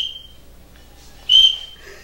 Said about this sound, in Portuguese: Isso é um apito também? É um apito.